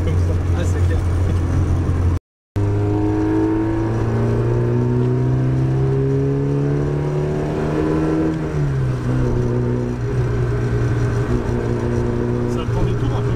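A Porsche 924 engine pulls steadily through the revs inside the cabin, a continuous loud drone rising in pitch and then dropping after a gear change, under constant road noise.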